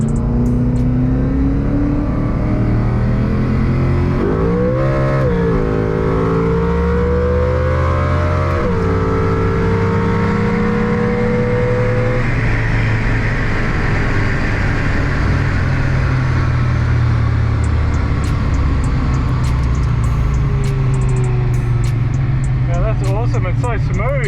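A loud, close car engine at a roll racing event idles roughly, its pitch climbing and falling as it is revved a few times, then settling back into a steady rumble.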